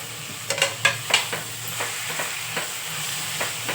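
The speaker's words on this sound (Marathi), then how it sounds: "आता आपण याच्यात बटाटा आणि फ्लावर टाकून घ्यायचं" Potato and cauliflower are stirred into spicy pav bhaji in a pan, with a quiet sizzle under several distinct spatula scrapes and knocks spaced through the clip.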